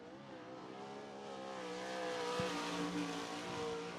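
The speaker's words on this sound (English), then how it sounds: "Shane Forte in the 26F, third car to hit the track here in qualifying." A 360 sprint race car running on a dirt speedway track during qualifying, its engine a steady, loud harmonic drone that swells slightly in the second half, heard at a moderate distance with no talk.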